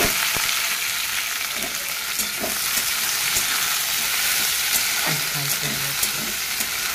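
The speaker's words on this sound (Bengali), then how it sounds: "এই যে সবাই তেল দিয়েছি, পেঁয়াজ হচ্ছে" Onions frying in oil give a steady, close sizzle throughout, with occasional stirring scrapes and a brief low tone near the end, and no talking.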